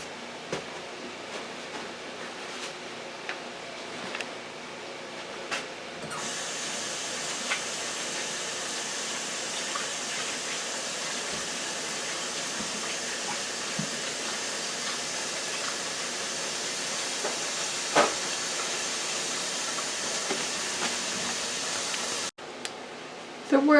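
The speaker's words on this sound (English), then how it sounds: "Let me wash my hands" Tap water runs steadily in a home kitchen sink during hand washing, a continuous hiss that starts a few seconds in and carries on for about twenty seconds before cutting off.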